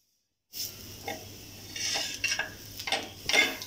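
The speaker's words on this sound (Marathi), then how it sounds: "हे सुद्धा व्यवस्थित आपण छान कलर बदलेपर्यंत परतून घेऊया." Dry coconut is stirred and sautéed in a pan while preparing mutton rassa: a spoon scrapes and clinks against the metal in irregular bursts with a faint sizzle, near and fairly quiet, alone without talk.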